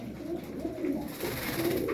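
Soft, repeated cooing of performance pigeons, low and rolling, rising in a steady rhythm against a faint background hum.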